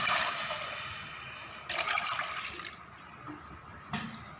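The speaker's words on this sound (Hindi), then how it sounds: "अब हम इसमें 3 कप पानी ऐड करेंगे।" Water is poured into a pan to make semolina halwa, a loud rushing splash that tapers into a softer trickle, with a brief clatter near the end.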